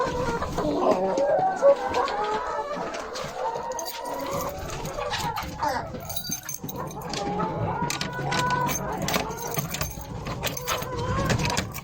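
Laying hens cluck and murmur as the last birds leave their coop, a steady overlapping chorus close by with rustling and metallic jangles.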